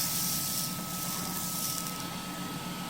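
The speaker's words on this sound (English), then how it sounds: "I'm just going to hoover that a little bit there" A vacuum cleaner hoovering out the bottom of a Charnwood Country 12 wood stove during sweeping and repair, a steady loud broadband roar with a constant whine, running throughout with no talk.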